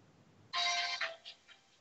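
A telephone gives a short, bright ring indoors, one loud burst followed by a few fainter electronic pulses.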